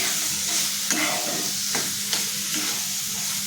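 Val beans sautéing in a ground masala paste, with a steady sizzle and frying hiss and several distinct scrapes and stirs of a spoon against the pan, close and clear with no talking.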